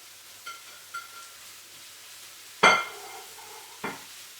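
Vegetables sizzle softly in a frying pan while a utensil stirs them, with a couple of sharp clanks against the pan and quieter scrapes between.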